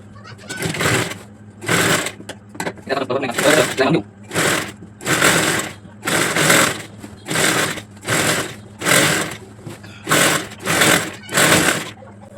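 A domestic sewing machine stitches the waistband belt of an eight-panel saree petticoat in close, loud bursts. About a dozen runs of roughly a second each are separated by short pauses, with a steady low hum underneath.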